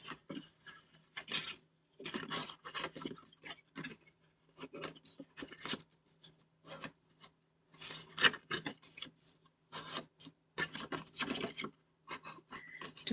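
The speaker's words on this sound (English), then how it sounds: "Just burnishing these edges a bit more." Close, dry rubbing of a bone folder burnishing the edges of a card for a kraft envelope album made from a stamped whole sheet, in repeated short rasping strokes with brief pauses between bursts and no talking.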